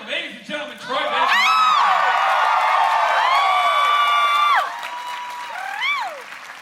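A concert crowd at MomoCon cheers and applauds, a loud sustained roar of clapping and shouts carrying for several seconds, with a high whooping voice rising above it before it dies down.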